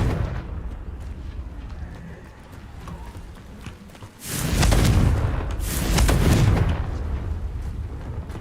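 A Confringo blasting curse from a Harry Potter game erupts after a quiet stretch, with a heavy booming burst at about four seconds followed by a second rumbling blast, loud and broad, fading into a lingering low rumble.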